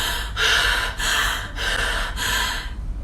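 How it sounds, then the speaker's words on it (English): Heavy breathing in four or five long, loud, rhythmic breaths, each a broad breathy rush, close to the mic with no speech. "or breathing heavily"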